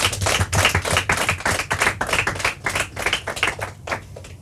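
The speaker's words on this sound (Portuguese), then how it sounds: "Palmas para eles." A studio audience at a Portuguese quiz show claps in a loud, close burst of brisk, uneven hand slaps that holds throughout without talking.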